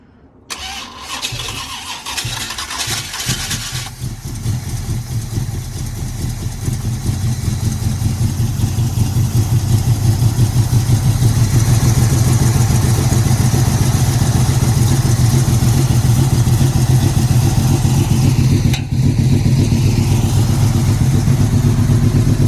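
An Oldsmobile Cutlass engine, unused for years and primed with extra fuel, cranks briefly, then catches and settles into a loud, steady, rough idle that runs on alone with no talk.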